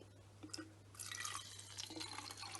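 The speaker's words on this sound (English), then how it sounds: "All I simply do is pour the fuel" Jet fuel poured by hand into a sample bottle up to a fill line, a close, continuous liquid splash and gurgle that builds after the first second over a steady low hum.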